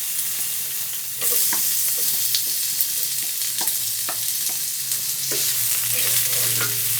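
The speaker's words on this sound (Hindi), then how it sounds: "अब हम इसे अच्छे से भून लेंगे" Finely chopped onions fry in hot ghee in a pan for keema, giving a steady, close sizzle that swells louder after the first second, with light stirring clicks scattered through and no talking.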